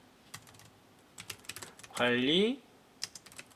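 Keyboard typing during Korean word-processor practice, heard as scattered soft key clicks with a short spoken word and a brief loud tone in the middle.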